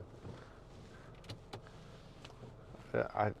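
Panoramic roof of a 2017 Land Rover Discovery Sport 2.0 TD4 HSE opening, heard as a brief electric motor whir near the end, close by in a quiet cabin after faint clicks and soft handling noises.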